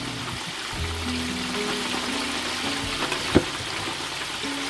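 Steady sizzling hiss of chicken frying in hot oil, close by and continuous, with one brief louder crackle partway through.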